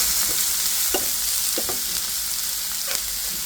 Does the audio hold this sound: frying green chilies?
yes